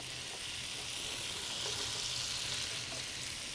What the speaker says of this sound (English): Saute these, and while they're sauteing